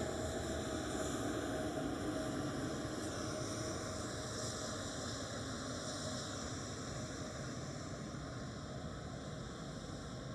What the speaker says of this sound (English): KLM City Hopper coming from the taxiway. It's an E175.